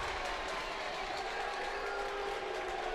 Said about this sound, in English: You can hear the boos.